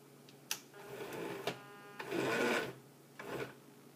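Hasbro R2-Q5 spy droid toy converted to radio control and interactive electronics powering up, making a series of short electronic whirs, clicks and buzzing tones in separate bursts, close and fairly quiet, with no talking.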